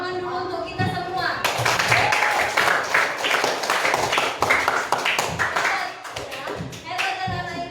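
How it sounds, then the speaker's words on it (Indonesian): A classroom of fifth-grade schoolchildren claps together in a lively burst of applause, dense and close, with children's voices calling out at the start and end. "Tepuk tangan dulu untuk kita semua."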